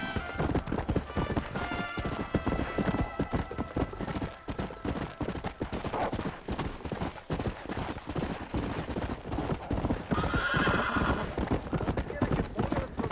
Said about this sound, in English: I gotta hitch up this horse.